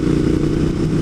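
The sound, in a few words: motorcycle engine on the throttle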